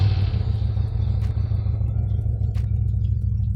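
A Lifan V16S V-twin motorcycle idles on its stock exhaust, a close, steady, deep rumble with a loping pulse that holds at even volume throughout.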